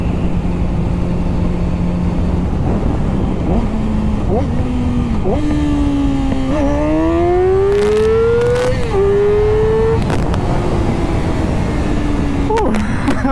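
A Yamaha R6 motorcycle engine rises and falls in pitch as it is revved through downshifts, loud and continuous under steady wind rush, with several sharp rev climbs and drops.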